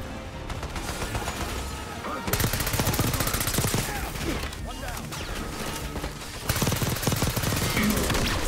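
Rapid gunfire from a weapon in the Call of Duty Black Ops 6 video game, dense bursts of shots crackling loud and close over game noise, with a voice talking at times.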